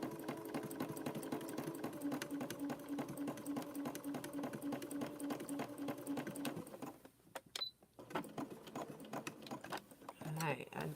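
A sewing machine stitches lining squares for a crocheted bag, a steady close rapid whir that pauses briefly and then restarts with a backstitch, while someone talks over it.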